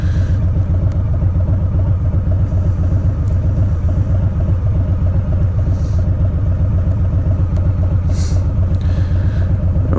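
A 2020 Harley-Davidson Low Rider S with stage 1 pipes rumbles loud and close, its deep engine throb steady and unbroken for the whole stretch, with no talking over it.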